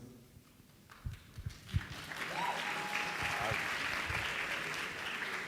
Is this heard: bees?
no